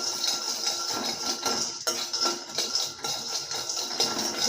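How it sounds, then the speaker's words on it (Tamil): Dried haritaki (kadukkai) roasted over low heat in a pan while being stirred continuously, giving a steady, close rattle and scrape of the pieces and a utensil against metal, with no talking. "அது வரைக்கும் நம்ம அதை வறுத்துக்கினே இருக்கணும்"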